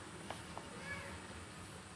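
A cat meows softly, two short faint calls early on, over a steady background hiss with no one speaking.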